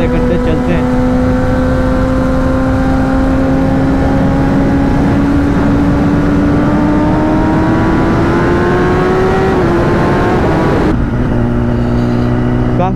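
A Kawasaki Ninja ZX10R superbike being ridden on a group ride, its engine droning loud and close with a slowly rising pitch under heavy wind rush, then easing off near the end.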